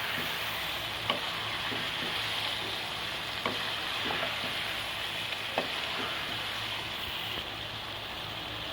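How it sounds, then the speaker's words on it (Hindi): Mutton pieces fry with spices for bhuna gosht, a loud, dense and steady sizzle with occasional spoon clinks and stirring knocks over nearly nine seconds. "अब हम इसमें मसाले ऐड कर देंगे और इन मसालों के साथ गोश्त को फ्राई करेंगे"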